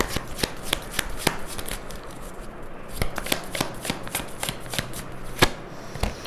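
Tarot cards being shuffled by hand, a quick run of crisp, close riffling snaps and flicks at an uneven rhythm, with no talking.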